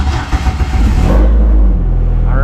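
An Ecotec-swapped Mazda Miata cranks briefly and catches, its engine firing into a loud, close, steady deep idle rumble with no talking.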